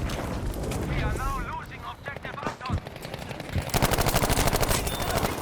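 In Battlefield 5 on PS5, players talk over scattered shots and battle noise, then a heavy machine gun opens up in a loud, fast, sustained stream of rounds.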